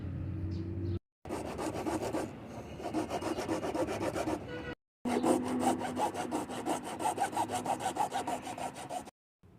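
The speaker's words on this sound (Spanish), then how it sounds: "Yo lo voy a hacer con una cegueta suelta y a mano" Loose hacksaw blade worked by hand through a water tank valve, a steady rhythmic rasping of fast back-and-forth strokes, close and loud, broken by two short pauses with no talking.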